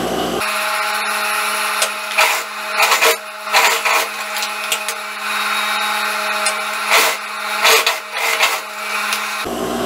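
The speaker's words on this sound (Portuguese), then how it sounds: "Já vou costurar aqui os ombros." A sewing machine runs steadily as it stitches the shoulder seams of a sport-collar jacket, a close, continuous mechanical whir with a low hum, broken by short bursts and pauses as the fabric is fed.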